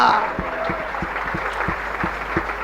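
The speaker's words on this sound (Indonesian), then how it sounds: "Tepuk tangannya meriah buat Tuhan" Congregation clapping at a lively church service, a steady run of sharp, evenly spaced claps at moderate loudness, with a voice sounding briefly at the start.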